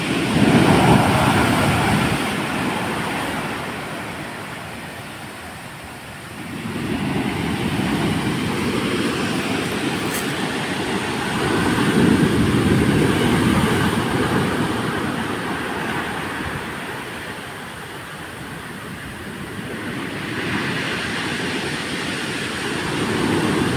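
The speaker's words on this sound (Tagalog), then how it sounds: "So ito lang, very rough lang po yung ating dagat." Rough sea off Maconacon during Typhoon Leon, a continuous loud roar of wind and surf that swells and eases in long waves, with no voices.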